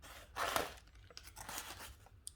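A branch snipped off a devil's plum bonsai, a quiet, close crunching cut near the start, then soft rustling and handling of the twigs with small clicks.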